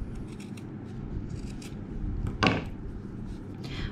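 Small scissors trimming a yarn pompom level for a handmade card, soft repeated snips close up, with one louder, crisper cut partway through, in a quiet room.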